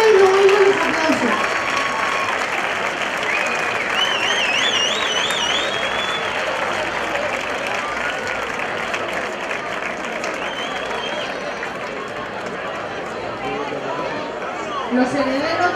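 A large crowd fills a plaza at a town fair opening, with sustained applause and cheering under a loud, busy hubbub. Whistles sound through the din, and voices are heard throughout.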